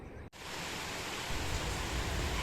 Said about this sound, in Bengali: এত বৃষ্টি হচ্ছে যে আমার বাগানে অনেক জল দাঁড়িয়ে গেছে